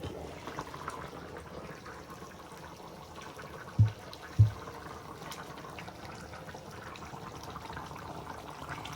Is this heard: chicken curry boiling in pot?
yes